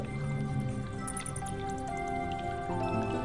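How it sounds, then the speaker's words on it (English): Water drips onto the floor of a limestone cave, giving irregular small splashes and patters that echo gently against a steady, damp background. "On the floor where the drips land and splash, evaporation is also taking place and calcite is being deposited."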